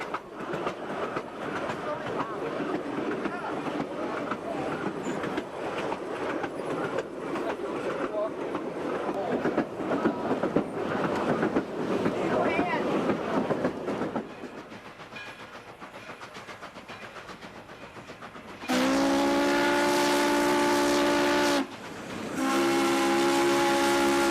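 A heavyweight 1940s passenger train rolls on rails with a continuous loud rumble and clatter. The rumble eases partway through, then a steam-style whistle blows in two long blasts near the end.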